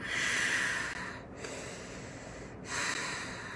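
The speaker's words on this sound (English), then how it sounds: "ujjayi pranayam, victorious breath, in through the nose and out through the nose" Ujjayi breathing in and out through the nose: slow, close, hissing breaths, with a long airy inhale, a brief pause, a long exhale and another breath starting, loud and alone.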